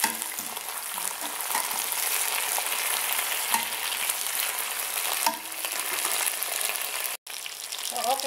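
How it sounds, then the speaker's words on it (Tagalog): Vegetables blanching in a shallow pan of hot oil for a home-cooked veggie kare-kare, giving a steady, close, broadband sizzle that holds for several seconds with a brief dropout near the end. "blanch lang natin sa oil"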